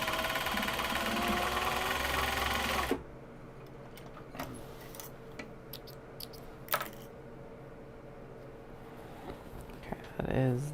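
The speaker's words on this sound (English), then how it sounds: "Okay, that is the seam that has been backstitched." A sewing machine backstitching a seam on small box bags runs loudly and steadily for about three seconds, then stops; afterward come scattered handling clicks and rustles as someone speaks.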